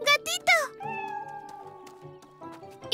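A cartoon kitten gives several high, drawn-out meows in quick succession, clear and close, mixed with an animated character's voice calling out.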